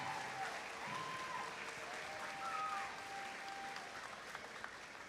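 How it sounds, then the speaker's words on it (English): An indoor crowd at a FIRST Robotics district competition in Gainesville claps loudly and steadily for mentors and coaches, a dense sustained wash of applause with faint voices mixed in. "can we give your mentors and coaches a huge round of applause?"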